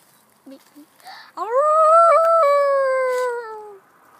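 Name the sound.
person imitating a coyote or wolf howl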